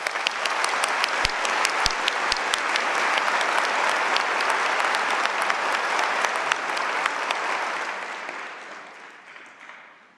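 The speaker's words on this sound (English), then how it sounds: "let's have a round of applause for our graduates." Graduates at a convocation ceremony receive sustained applause from a large crowd, which stays dense and even for several seconds before gradually fading at the end.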